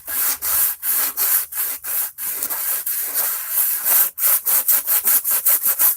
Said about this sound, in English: Right now, I'm basically just sanding down the parts that need to be sanded.